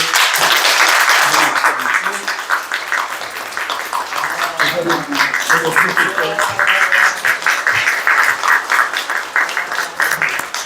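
A church congregation at a year-end Sunday worship service claps, a broad, fairly loud patter of hands with voices speaking and calling out through it, the clapping swelling and easing over about ten seconds.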